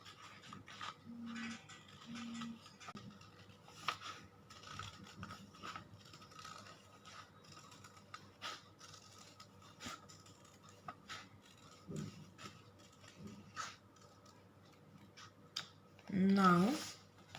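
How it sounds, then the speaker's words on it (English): Scissors cut a paper circle for an origami bird, making faint intermittent snips and paper rubbing with pauses between them, and a brief louder handling noise near the end. "I am going to cut the circle"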